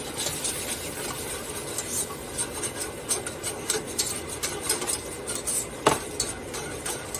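Flour being stirred around a pan while making a steak and chicken chipotle bowl, a steady scraping and rubbing with light metallic clinks of a utensil, continuous and close, one sharper knock near the end.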